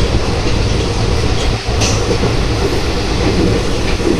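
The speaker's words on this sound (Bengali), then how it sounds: "আমাদের ট্রেন এখন দিয়ে দিয়েছে এই যে ভাস্কো যশবন্তপুর" The Yesvantpur–Vasco express runs at speed, its loud, steady rumble heard from inside the coach with clickety-clack wheel rhythm and a brief dip midway.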